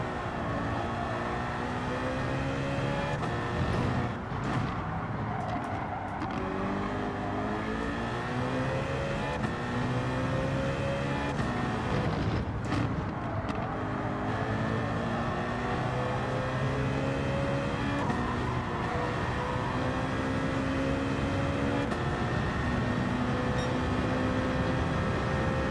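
Race car in Gran Turismo 7 accelerating hard through the gears during a daily online race, a loud, steady engine note whose pitch climbs repeatedly and drops sharply at each shift.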